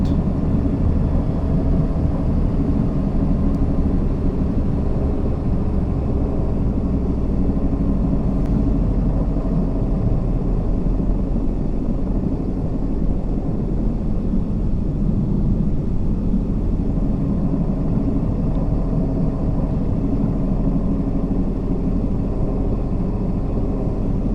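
A Class 171/7 diesel multiple unit runs on the East Coastway in a train simulator game, giving a steady, loud engine and rolling rumble that holds unbroken throughout with no talk.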